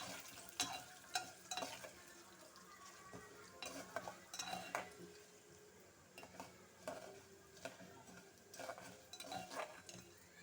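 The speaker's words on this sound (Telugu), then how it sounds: "ఓ 2-3-4 మినిట్స్ పెసరపప్పు కూడా వేగాలండి." Moong dal frying in a pan with a steady soft sizzle, while a utensil stirs and scrapes against the metal in repeated clinking strokes, fairly close and quiet with no talking.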